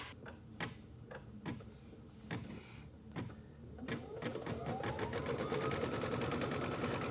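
An embroidery machine stitches a green batting placement line on a velveteen Christmas tree quilt block, starting with a few spaced clicks before settling into a steady, loud, rapid mechanical stitching rhythm up close.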